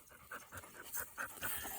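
A dog in a truck pants in quick rhythmic breaths, close to the microphone but quiet, with a faint whimper now and then.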